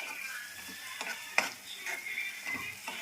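Green chillies being stirred into nalla fry frying in a pan, with a near, soft scraping of the spoon in a few irregular strokes over a faint sizzle.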